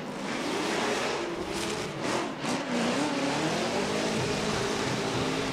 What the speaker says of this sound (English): now coming through into that second outside zone, Chris Forsberg swings wide, takes out that outside clip.